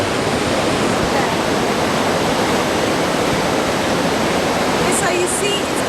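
Aruu Falls in Uganda roars as a waterfall, with a loud, steady wash of falling water close by that fills the whole scene without a break.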